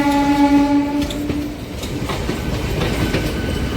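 Chennai–Nizamuddin Duranto SF Express sounds a loud sustained horn blast that fades into the rhythmic clatter of wheels over rail joints as the train runs on, heard up close.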